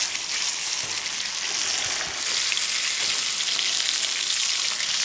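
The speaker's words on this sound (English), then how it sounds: "We want to hear a nice sizzle as it goes on" A pork chop sizzles and crackles steadily on a hot coal shovel, a loud, continuous frying hiss heard up close.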